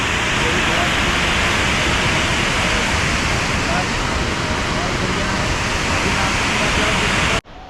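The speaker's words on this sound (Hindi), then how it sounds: "ये देखो क्या शानदार झरना है, बहुत ही प्यारा व्यू।" A waterfall on the Hemkund Sahib trek in the Himalayas roars as a dense, steady rush of falling water, close and loud for several seconds before it cuts off abruptly.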